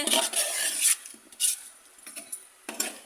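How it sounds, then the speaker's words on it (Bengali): Mutton biryani with potatoes and ghee is stirred in a pot: a spoon scrapes and clinks in quick irregular bursts, close and fairly quiet, with short pauses between strokes. "ভালো করে নেড়ে চেড়ে ঘি ছড়ানো হচ্ছে"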